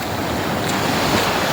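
Pacific Ocean waves wash against a rocky shore in a steady, loud roar of surf, with wind buffeting the microphone throughout and no voices.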